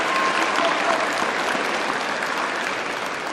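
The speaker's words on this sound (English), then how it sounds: "let's give them another round of applause." Dense, loud applause from a school audience in a gymnasium for the high school band at a Veterans Day program, sustained and even throughout.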